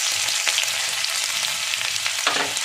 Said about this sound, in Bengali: রসুনটা দিয়ে দেবো।